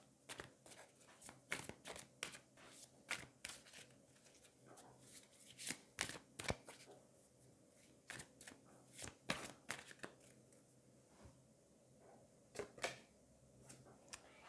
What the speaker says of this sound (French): on va prendre une carte des anges